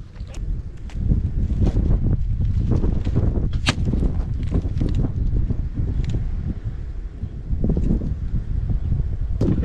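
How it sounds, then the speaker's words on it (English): Strong outdoor wind gusts buffet the microphone, a continuous low roar that swells and eases with occasional rustling and thumps. "It is getting windy"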